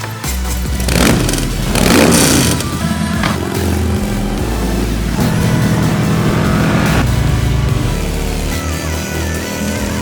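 A Harley-Davidson motorcycle fitted with Screamin' Eagle parts revs loudly up close, its deep engine roar rising and holding steady with a couple of throttle surges.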